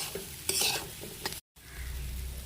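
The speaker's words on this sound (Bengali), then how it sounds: "ভালো করে এটাকে কষিয়ে নিই" Cabbage curry is sautéed and stirred in a pan, giving a close sizzle with a few quick spatula scrapes, a brief dropout, then the frying hiss resumes.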